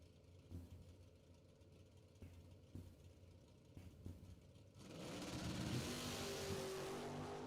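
At a drag strip, a Roadster and a Camaro rumble quietly in the lanes with scattered thumps, then both launch into a sudden loud, sustained roar of engines from a distance.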